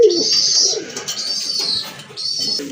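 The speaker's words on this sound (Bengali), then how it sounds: "খুবই চমৎকার শর্ট ফেসের সাথে শাটিন, সবচেয়ে ছোট ছোট কবুতরের জোড়া এগুলা" Short-face satin fancy pigeons cooing close by, with several soft, rolling coos that rise and fall in quick succession, fairly loud and clear, with no one talking.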